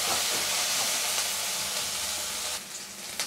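Onion and green chilli paste fry in a pan with a steady, loud hiss and sizzle throughout, brightening slightly near the end.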